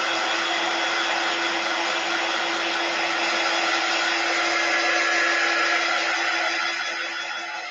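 A handheld heat dryer blows steadily to dry watercolor ink on a foldover card: a continuous close whirring hiss with a fixed motor whine, running alone for several seconds before easing slightly at the end.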